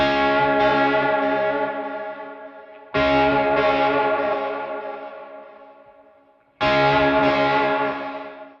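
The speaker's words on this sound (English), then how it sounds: "you can really dial in a very deep swimming kind of delay and reverb" An electric guitar plays through a Seymour Duncan Dark Sun reverb and delay pedal, three loud sustained chords each ringing out into a deep, swimming wash of modulated delay and reverb.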